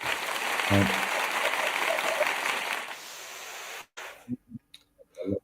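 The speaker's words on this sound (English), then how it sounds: "I'm just going to play applause whenever I'm just like, I need some." A burst of clapping and cheering from a crowd, steady for a few seconds, then cutting off abruptly into a few faint spoken sounds.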